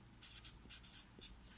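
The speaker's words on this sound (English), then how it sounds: "C and D I am going to write on the paper" Pen scratching on paper while writing out maths exercise questions, faint and close, in short uneven strokes with brief pauses, no talking.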